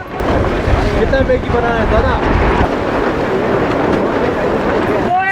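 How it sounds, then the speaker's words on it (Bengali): Stormy wind in snowy Gulmarg, Kashmir, roars as a loud, constant gusting rush with light snow falling, while voices talk over it and bursts of chatter come and go. "We have to be together here in the stormy weather."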